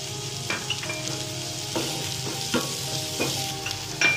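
Onion fries in a pan with chopped ginger and garlic, giving a continuous sizzle broken by a handful of spatula scrapes and stirs, close and moderately loud, with no voices.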